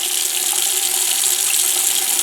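Cold water pours steadily from a household tap in a house with a newly installed water softener, a continuous, loud hiss of running water with no talk.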